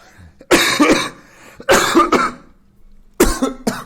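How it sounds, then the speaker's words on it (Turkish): Three loud, close coughing fits, each a cluster of two or three harsh coughs, separated by brief pauses of near silence. "Günaydın öksürüklerime hoş geldiniz bu arada"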